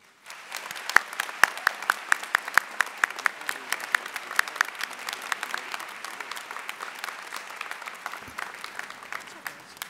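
Audience applause at a UCLA humanities commencement ceremony as a speaker is welcomed, steady dense clapping from a large crowd that starts at once and holds throughout, with some sharper individual claps standing out near the front.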